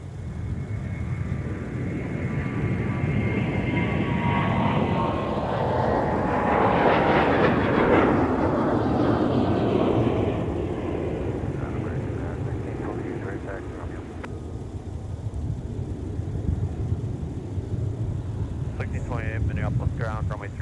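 An airliner takes off from runway 30 right at Minneapolis–St. Paul airport, a broad, steady jet roar that swells toward the middle and holds, with a rising then falling engine tone, heard from nearby alongside radio chatter.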